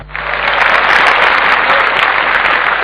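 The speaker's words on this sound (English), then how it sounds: "So let's give a big round of applause and invite Shafi Mathur on stage." At a Tata Jagriti Yatra gathering, an audience bursts into loud, dense applause that swells quickly and holds steady and close for a few seconds.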